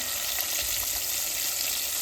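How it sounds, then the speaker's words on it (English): Constant crackling sizzle of pork chops or okra frying in hot oil, bubbling steadily and close by with no pauses. "They're frying up good."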